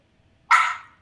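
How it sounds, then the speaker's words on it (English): A single dog bark rings out clearly and close, one sharp burst that tails off over about half a second with nothing else around it. "that's my dog"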